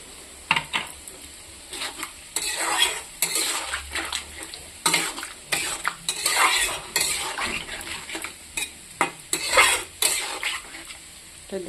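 Paneer gravy with cauliflower cooks in a pan while a utensil stirs and scrapes it, giving repeated clattering strokes over a soft sizzle, fairly close and with no talking.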